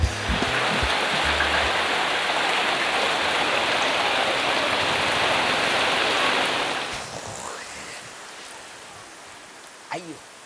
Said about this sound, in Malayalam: അപ്പം വീണ്ടും മഴ കേട്ടോ ഇടയ്ക്കിടയ്ക്ക് മഴ പെയ്തുകൊണ്ടിരിക്കുകയാണ്